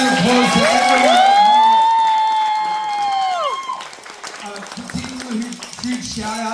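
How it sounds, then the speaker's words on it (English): Audience at a welcome home celebration in Los Angeles cheers and claps, a loud sustained whoop over crowd noise, followed by scattered clapping and voices. "So a huge round of applause to everyone."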